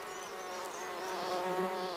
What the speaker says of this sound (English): Mopani and African honeybees frantically search for nectar amongst the bristles, all the while collecting pollen